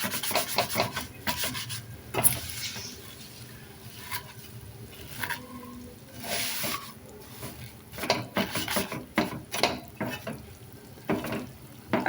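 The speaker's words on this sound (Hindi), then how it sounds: "ऐसे आपने इसको बड़े एहतियात से अल्टी पल्टी करके तो भून लेना है अच्छी तरह सवैयों को" Vermicelli (seviyan) being turned and roasted in a pan, giving soft, irregular scraping and rustling strokes, close and fairly quiet, with no speech.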